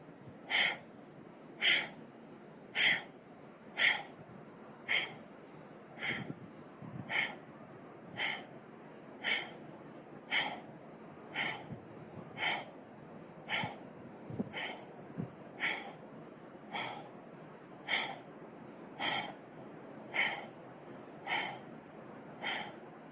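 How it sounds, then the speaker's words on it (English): Deep, regular breaths in and out repeat in a steady rhythm, about twenty audible cycles, close and moderately loud, during a shoulder warm-up exercise. "So take a deep breath in to begin."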